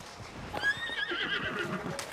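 A horse in Zelda: Tears of the Kingdom gives a clear rising and falling neigh in a video game, a mid-loud whinny lasting over a second with light hoof-like thuds beneath it.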